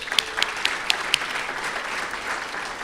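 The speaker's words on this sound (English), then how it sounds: "So let's give Delano and Whitney a round of applause." An awards-ceremony audience at the STEMmys Awards claps steadily for two honorees, with a few sharp, close individual claps standing out over a softer, continuous wash of applause.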